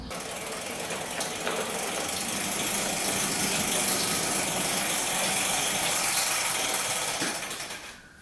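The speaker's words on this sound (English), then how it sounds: "You can hear it bogging at full throttle, like it doesn't want to go full throttle." Yamaha Warrior quad engine bogging at full throttle, a loud, close, sustained raspy drone with rattles that holds steady for about seven seconds and then drops off abruptly, with no talking.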